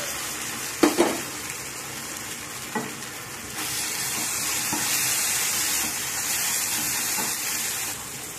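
Ginger masala frying and being stirred in a pan, a continuous close hiss of sizzling oil with a few scraping knocks of the spoon early on, the sizzle swelling slightly louder in the second half, no talking.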